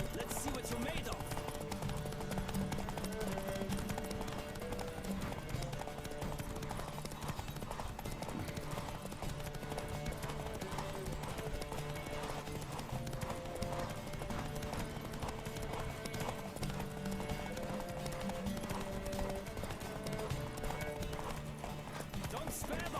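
Horse galloping at race pace in The Witcher 3, a rapid continuous clip-clop of hooves running steadily throughout, mixed with game sound and occasional speech.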